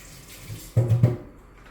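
Hands being washed under a running kitchen tap while making lemon ricotta pasta, with garlic-sticky fingers rinsed in a short burst of splashing water that rises briefly and then fades, no talking.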